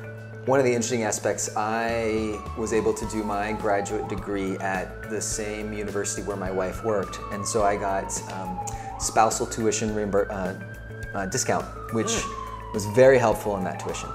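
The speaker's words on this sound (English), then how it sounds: "apologies for the sirens in the background here" Sirens pass outside, with rising and falling wails that sweep repeatedly and hold steady under someone talking close by throughout.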